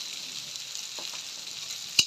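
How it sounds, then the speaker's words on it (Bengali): Spice paste sizzling in a pan with green chilies added, cooked for a Bengali cabbage dish with fish head; a steady soft frying hiss runs throughout with a brief sharp clink near the end. "মশলাটা দেখুন আমার প্রায় ভাজা ভাজা পুরো একদম ভাজাই হয়ে গেছে"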